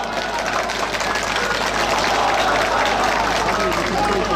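A rally crowd in Bitlis applauding, a dense steady wash of many clapping hands, loud and sustained throughout with no distinct individual claps.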